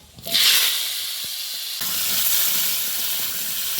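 A loud burst of sizzling as tomatoes, sweet potato and potato hit hot oil in a wok, settling into a steady crackling hiss that continues throughout.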